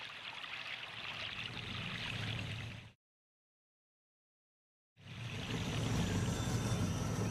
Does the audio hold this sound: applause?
no